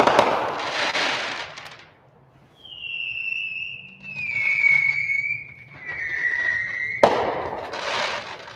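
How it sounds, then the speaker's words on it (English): Fireworks going off outdoors: two loud crackling bursts bracket a long rising whistle that wavers and falls, the crackle returning sharply near the end, fairly close and without talk. "Oh, a little bit more fireworks."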